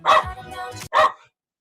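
A pet dog barks twice at close range, two sharp, loud yaps with a short gap between them, then silence.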